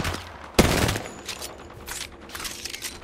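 Gunfire in an Apex Legends duos match, with one sharp, loud burst of shots near the start that briefly dominates, then scattered fainter pops and game effects.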